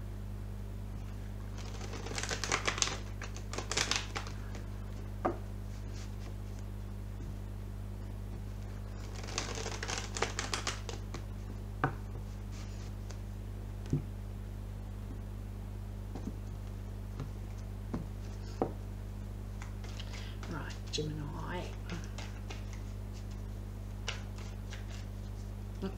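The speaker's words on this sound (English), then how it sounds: "That wasn't a very good shuffle." A deck of cards is riffled and shuffled in a few quick bursts of crisp fluttering, separated by quieter pauses with small clicks and taps.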